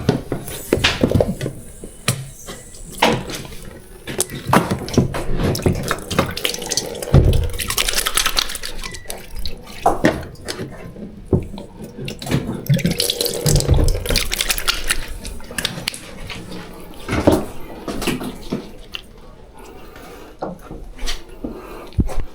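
Water runs and splashes from a tap during pier fishing, a continuous uneven gush with knocks and clatter close by.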